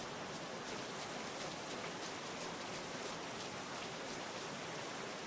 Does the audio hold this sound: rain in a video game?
yes